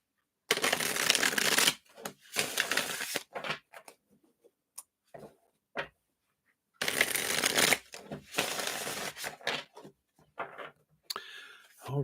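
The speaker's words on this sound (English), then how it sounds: "Let me shuffle these up here." Tarot cards are shuffled in several quick riffling bursts, with soft taps and slides between them, close up and with no talking.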